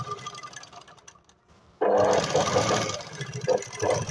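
A sewing machine stitches close along the edge of a blouse strip for a two-piece katori blouse, its steady motor whir starting abruptly after a quiet pause and running on nearby.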